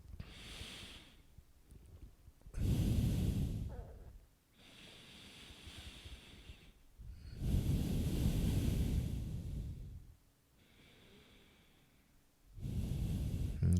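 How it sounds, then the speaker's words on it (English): Deep, slow breaths during a yoga session, loud rushing exhales alternating with quieter inhales in a steady rhythm, close to the microphone with no talking. "Engage in the belly as you're breathing out."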